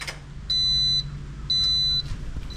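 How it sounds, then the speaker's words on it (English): A JK battery management system alarm on a Victron setup sounds two steady high-pitched electronic beeps, each about half a second long and a second apart, over a low background hum. "We still got the alarm running."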